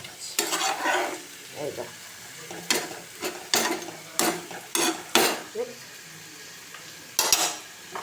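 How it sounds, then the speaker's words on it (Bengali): Fried eggs being stirred with spices in a pan for egg curry: repeated scraping and stirring strokes over a soft sizzle, in irregular bursts with short pauses, close up, with a brief spoken word. "ডিম ভেজে করে মশলা দিয়ে কষানো হচ্ছে।"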